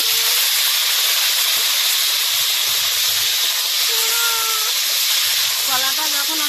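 Green banana and potato pieces frying in hot oil in a wok with five-spice tempering and slit green chillies, giving a steady loud hiss and sizzle with faint background voices.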